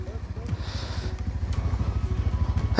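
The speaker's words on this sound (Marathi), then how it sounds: "बाईक काढत आहेत सर्व" Several motorcycles idle and rumble steadily close by as riders bring them out to set off on a long road trip, the engine pulse growing slightly louder toward the end, with voices talking over it.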